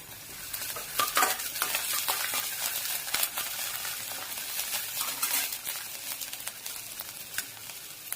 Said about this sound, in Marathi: लसणाचे बारीक बारीक तुकडे केलेले आहेत ते पण आपण तेलामध्ये परतून घेऊया